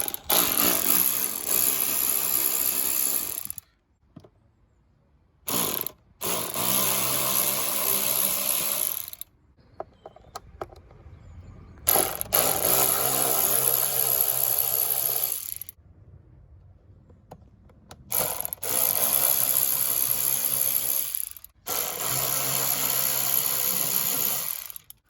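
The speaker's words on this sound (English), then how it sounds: "Alright, so we're going to start taking off all the screws." Bursts of a power driver whirring as rusty Phillips screws come out of a Seat Ibiza 1.4 MK3 during a service, several loud sustained runs of a few seconds each separated by short quiet gaps.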